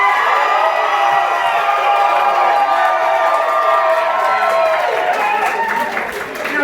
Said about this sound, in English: If Marvel has a better argument, please make some noise